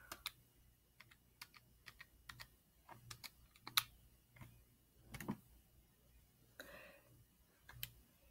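Number keyed into a calculator, a string of soft, uneven plastic button clicks and taps in a quiet room, with brief pauses between presses.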